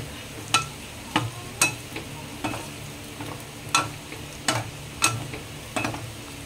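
Pork steak fries in a pan with a steady low sizzle, while a spatula scrapes and taps the pan in sharp, regular strokes about once a second.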